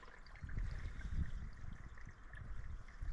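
Small creek flowing beside a wet hiking trail crossing, a faint, steady gurgle and babble of water nearby.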